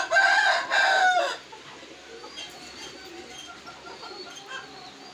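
A loud, close rooster-like squawk and cackle opens, followed by softer clucking and cooing from several chickens in the background.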